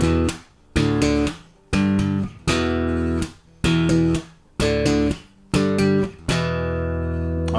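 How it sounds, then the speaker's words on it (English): Bass guitar riff strummed as chords with alternating down and up strokes, about ten loud, full-bodied strums in a choppy rhythm separated by short muted gaps, close and alone with no speech. "So we're gonna try the alternating picking or alternating strumming."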